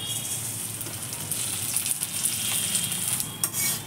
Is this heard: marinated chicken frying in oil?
yes